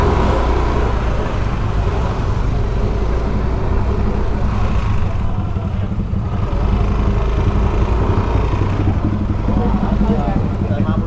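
A Yamaha Lexi LX 155 scooter rides along with a continuous close engine hum and heavy wind and road rumble. The noise stays steady and loud throughout, and voices talk over it at times.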